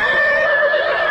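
A horse gives one long, loud whinny with a strained, rising pitch, like a foal calling for its mother, sustained and close without pause.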